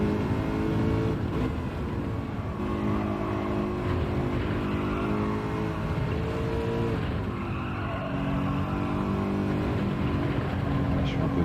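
A race car in Gran Turismo 7 revs hard through a corner, with the throttle blipped to pivot the car, a continuous engine drone rising and falling with tire squeal, under someone talking.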